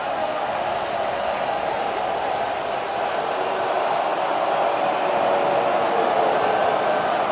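A football stadium crowd at a UFL conference championship between the Brahmas and Battlehawks, a steady loud roar of cheering filling the whole stretch without a break, swelling slightly toward the end.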